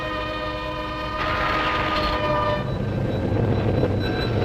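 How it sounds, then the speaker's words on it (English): A train horn blares with a sustained chord as a train rumbles past a railroad crossing in 1963 film audio, loud and close, the rolling noise building toward the end. "The train warning at a railroad crossing."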